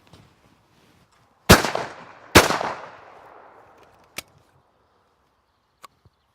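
Two sharp, loud shotgun blasts fire at a clay pigeon outdoors about a second apart, each echoing away. A couple of faint distant pops follow in the quiet.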